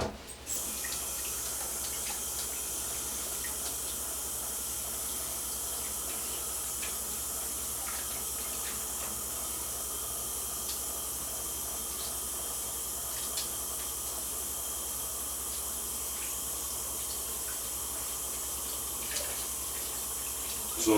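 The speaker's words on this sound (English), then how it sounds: "Wash my hands again." Hands are washed under a running kitchen sink tap, a steady, even hiss of flowing water that continues unbroken, fairly close, with faint splashes and no talking.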